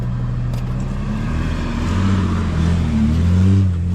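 A truck driving on a bush track at Devils Hollow and Mayford Valley gives a steady low engine drone that rises slightly as it turns around, distant and continuous.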